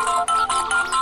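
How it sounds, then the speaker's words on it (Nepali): An electronic phone ringtone sounding for an incoming call, a loud, close, bright repeating melodic pattern of short tones with brief gaps, no voices over it. "फेरि यही बेला फोन आयो"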